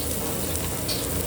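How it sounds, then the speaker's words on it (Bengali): Fresh fish fries in hot oil at a roadside stall, a dense, even hiss of sizzling filling the short moment without pause or voices. "একদম ফ্রেশ টাটকা মাছ ভেজে ভেজে দিচ্ছে"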